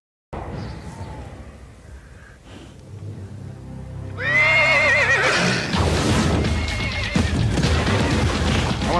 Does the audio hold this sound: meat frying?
no